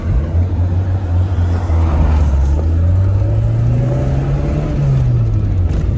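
A Tofaş Doğan SLX car engine revs close by in a steady, loud drone, its pitch climbing gradually, peaking and then dropping back near the end.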